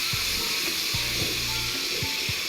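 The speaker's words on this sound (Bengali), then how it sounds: "এখন মাছগুলি কড়াইয়ে তেল দিয়ে ভালো করে ভেজে নেব" Baim fish fry in oil in a kadai, giving a steady, close hiss of sizzling with a few soft, low knocks from the pan.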